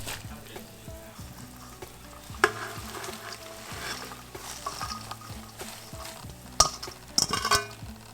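Four pounds of clean chopped collard greens tumble into a hot pot with smoked turkey, giving soft rustling thuds and scattered clinks against the pot under a low steady sizzle, with a few sharper knocks toward the end.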